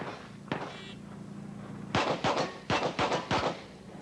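Pistol shots ring out on a steel challenge shooting stage at a 1988 championship, with one early shot followed by a rapid string of five sharp reports close together, heard over a steady background hum.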